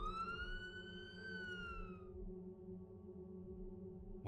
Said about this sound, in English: I hear sirens in the background